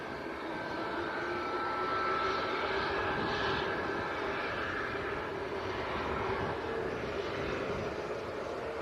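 Ryanair Boeing 737 Max jet at Manchester airport, a steady broadband engine roar heard from a distance, constant and unbroken throughout.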